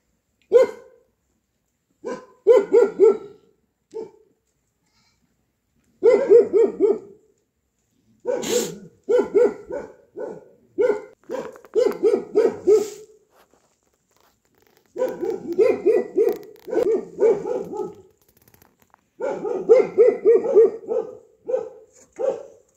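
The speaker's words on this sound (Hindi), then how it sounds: "कुत्ते थोड़े बहुत भौंकने लगे हुए हैं" A dog barks repeatedly at night in a jungle in bursts of rapid, sharp yaps, with short silent pauses between volleys, loud and close in an otherwise still setting.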